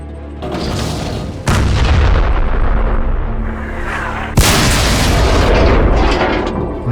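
Cartoon tank cannon fires twice with loud, heavy booms, each followed by a long rumbling roar and the clang of a shell striking armour, with no speech over it.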